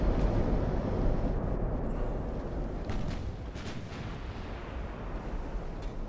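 Battleship main guns fire in Ultimate Admiral: Dreadnoughts, heavy booming rumbles with distant shell impacts rolling in a dense, continuous low barrage, loud and reverberant, no talk.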